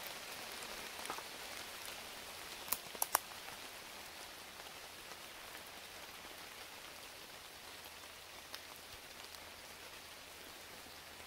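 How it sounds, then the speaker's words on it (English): Soft, steady rain patters on a surface, a faint even hiss with occasional closer drip taps and no talking. "So it's still raining"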